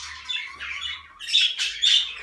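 Paired cage birds kept for home breeding give loud, close, repeated harsh squawks in several bursts, alone without talk.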